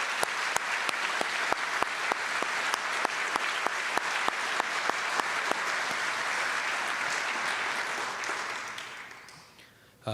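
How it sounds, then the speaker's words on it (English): An audience at an awards ceremony applauds the award recipients with sustained, dense clapping, loud and steady before tapering off near the end. "Let's give them one final big round of applause."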